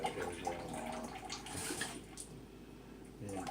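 Warm water pours steadily into a measuring cup for making slime, a soft, continuous splashing rush that stays fairly quiet throughout.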